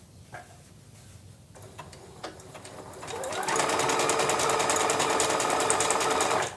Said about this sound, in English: So let's stitch to the first time that we're going to pivot